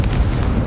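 Confringo fire spell blast in Hogwarts Legacy on PS5, a loud, dense burst of low booming rumble and crackle that fills the whole brief moment without letting up.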